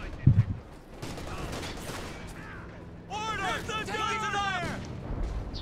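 A stolen artillery gun fires in a Company of Heroes 2 battle, booming among scattered gunfire and explosions, with a voice talking over the noisy combat.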